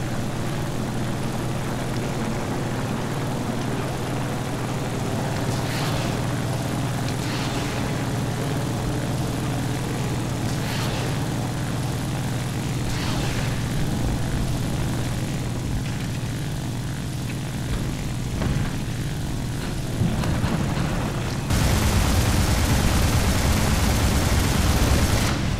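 A propeller-driven aircraft drones steadily and loudly in the War Thunder game. The continuous engine roar runs the whole time, rising slightly near the end, with faint thuds of gunfire under it and no talking.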